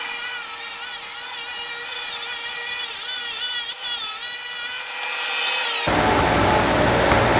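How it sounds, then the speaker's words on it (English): A power saw rips long strips from a 4x8 sheet of plywood, a loud, steady high whine with a tonal buzz that rises into a harsher, rougher roar near the end as the blade bites. "we're going to cut 3 strips off of our 4x8 sheet of plywood at 8 feet long by 8 inches"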